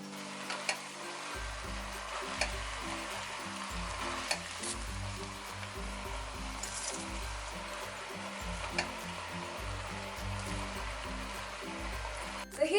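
Cabbage and ground beef sizzle and fry steadily in a pan for an Asian-style dish, with a continuous hiss and periodic scraping stir strokes recurring every couple of seconds, close and alone without talk.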